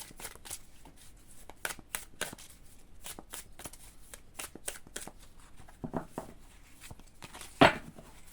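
Tarot cards are riffled and shuffled by hand, giving a steady run of crisp, close slapping flutters that slow and thin out toward the end, capped by one sharper tap.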